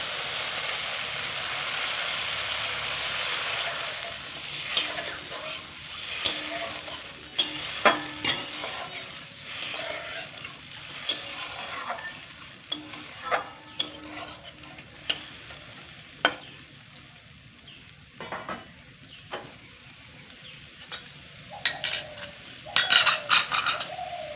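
Water poured into fried masala for a sea-fish curry, a loud hiss and sizzle at the start that eases into quieter simmering, stirred with intermittent utensil clinks and scrapes, birds chirping faintly in the background.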